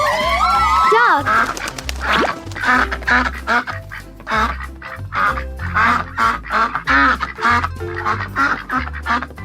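A duck quacks in a rapid, rhythmic series of loud, close calls over a low musical backing, with a voice speaking briefly at the start.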